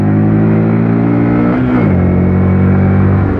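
A Honda 125 MSX motorcycle accelerates through town, its small single engine buzzing loud and close with a steady drone that shifts pitch midway as it changes gear, then settles into a lower hum.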